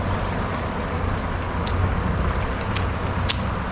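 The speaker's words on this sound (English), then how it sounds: "wait till all this traffic passes" Winter street traffic in Bar Harbor, Maine, a steady rumble of passing vehicles with a few brief hissing sweeps as cars go by, continuous and moderately close.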